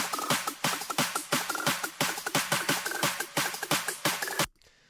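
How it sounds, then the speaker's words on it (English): Layered electronic claps from a future bass track hit in a fast, driving rhythm over a clap build-up loop, loud and dense, cutting off abruptly near the end. "And then I just added these drop claps on top of it to give it more energy."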